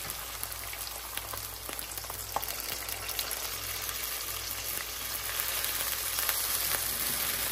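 Chicken teriyaki frying in a pan as teriyaki sauce goes in, giving a steady close crackling sizzle with scattered sharp pops that builds slightly louder toward the end, no talking.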